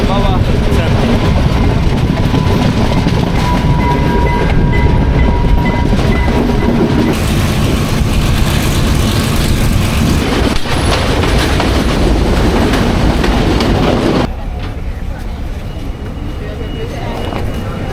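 A passenger train in Sri Lanka running on rails, a loud, continuous rumble with rhythmic clickety-clack and some wheel squeal, heard from on board, getting slightly quieter near the end.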